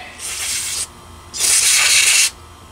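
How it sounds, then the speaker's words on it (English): Carb cleaner sprayed from an aerosol can into a lawn mower carburetor, two close hissing bursts, a short one and then a longer, louder one, with no talk. "I'm just going to give it a good squirt with some carb cleaner"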